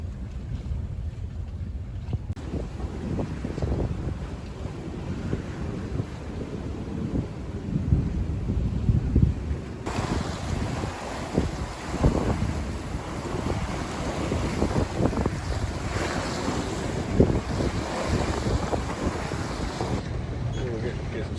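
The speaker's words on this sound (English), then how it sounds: "Sailing about 5 knots over ground." Sailboat under way at about 5 knots over ground in gusty wind off Vancouver Island near Port Hardy, heavy wind buffeting and rushing water noise, steady and loud throughout.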